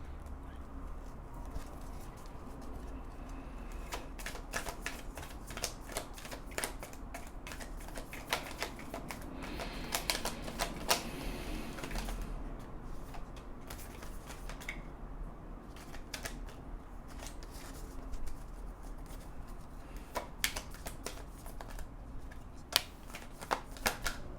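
Tarot cards being shuffled by hand, a long run of rapid papery riffles and flicks close by, continuous with small pauses and clicks.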